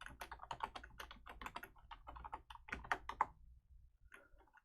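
Fingers type on a computer keyboard in quick, uneven bursts of clicky keystrokes, close and fairly quiet, with a brief pause partway through and a few last taps at the end.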